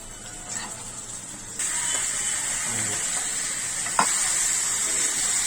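Chicken pieces dropped into hot oil with onions, green chillies and curry leaves, a steady close sizzle of frying that grows louder partway through, with a sharp clink of a utensil near the end.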